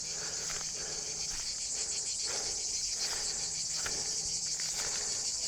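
Cicadas drone in an olive tree on a hot afternoon of about 35°C, a steady high-pitched buzzing chorus that pulses faintly and continues without pause.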